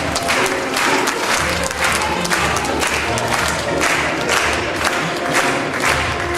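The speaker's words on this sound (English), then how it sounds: "Clap them, clap them, clap them, clap them." Concert audience at a Caribbean show clapping steadily in rhythm, a dense, loud crowd sound with some cheering mixed in throughout.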